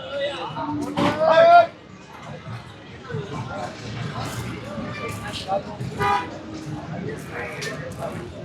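Buffaloes at a busy buffalo market low and call in the background among horn toots and crowd noise, with someone talking over them throughout.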